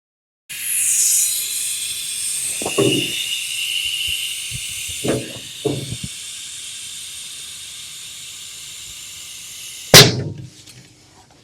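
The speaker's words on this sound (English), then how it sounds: "Pull our valve stem out of it." Air hisses steadily out of a Toyota Prius tire in a bead breaker as its valve stem is pulled, a long loud rush that fades slowly, broken by a few clanks and a sharp metallic knock near the end.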